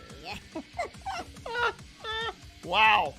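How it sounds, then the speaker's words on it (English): A voice run through a pitch-shifting voice modulator, with warbling, bent harmonics across a few short exclamations. "This is the voice modulator that you're hearing right now."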